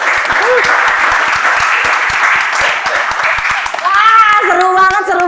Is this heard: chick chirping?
no